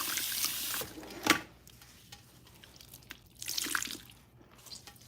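Water runs and splashes at a salon sink while hair is rinsed, a soft, uneven trickle with brief louder splashes near the start and again midway, fairly quiet throughout.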